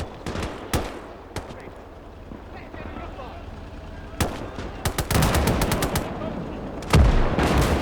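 Howitzer artillery and small-arms fire in the Gates of Hell Battle of Summa on the Mannerheim Line: sharp isolated shots at first, then a rapid burst of loud bangs and a heavy blast near the end over low battlefield rumble.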